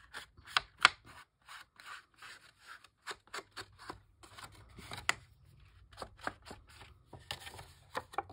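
Scissors snip repeatedly through paper ephemera for a grunge journal, close and quiet, with irregular clusters of crisp cutting strokes and brief pauses between them.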